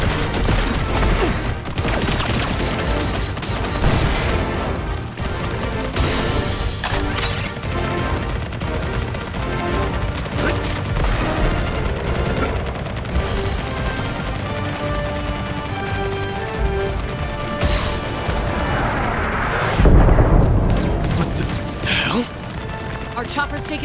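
Gunfire, explosions and crashes from the run-and-gun video game Contra: Operation Galuga, a dense continuous barrage with a big blast near the end, mixed under game music and voiced callouts.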